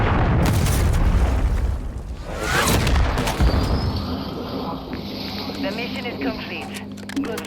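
A cruise missile strike in Call of Duty MW3 ranked play lands as a loud, rumbling blast with a long booming tail and debris, while players talk over the game audio.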